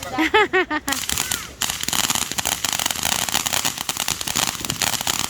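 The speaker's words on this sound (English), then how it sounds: "These are tiny ant fireworks." Small backyard fireworks at a family celebration, a dense run of rapid crackling pops and sputtering bursts that continue steadily at close range, after a few loud excited voices at the start.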